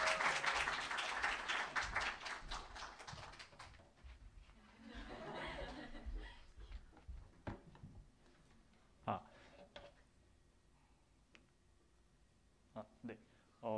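Applause and light laughter from a seminar audience welcoming a student presenter, dense clapping at first, then fading into scattered claps and a few chuckles.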